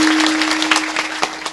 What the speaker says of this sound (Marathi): पखवाजावाल्यासाठी टाळ्या वाजवा सगळेजण एकदा ताकदीने वाजवा ताकदीने